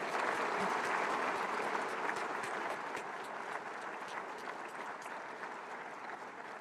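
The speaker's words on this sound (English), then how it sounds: "And I think that deserves a huge round of applause." Audience applause at a college convocation ceremony at a waterfront campus, broad and continuous, gradually fading toward the end.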